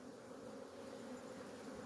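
Honeybees buzz steadily inside a hive during an inspection, a dense, continuous drone of many insects at close range with no talk over it.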